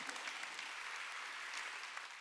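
A congregation claps together at a Wednesday church worship service, a steady, continuous wash of applause that stays fairly faint and even throughout.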